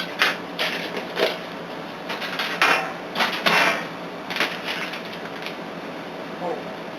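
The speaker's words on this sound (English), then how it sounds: "Alright, go ahead and stir it up." A spoon clatters and scrapes irregularly against a bowl as turkey lasagna filling with cottage cheese is stirred, with bursts of clinking close by and voices talking over it.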